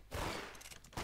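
Pistol fire in the Roblox Arsenal shooter game, heard as a brief, faint burst of in-game gun sounds with a sharp shot at the end, with no talk.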